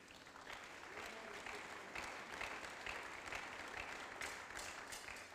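Church congregation applauding steadily throughout a sermon, a dense, continuous wash of clapping with a few louder swells, fairly close and filling the room.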